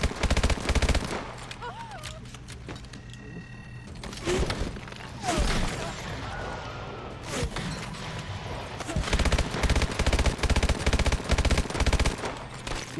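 Rapid machine-gun bursts of suppressing fire in Call of Duty: Advanced Warfare, loud and close, come in repeated volleys with heavy impacts, broken by short pauses while players talk over the shooting.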